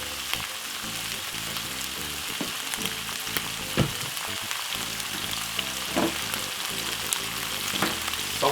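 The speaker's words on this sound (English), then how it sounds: "So we're going to fry up the saltfish, the veg, and everything together now." Saltfish and mixed vegetables frying together in a pan for a Jamaican fry-up, a dense steady sizzle with occasional crackles and stirring scrapes, close and alone.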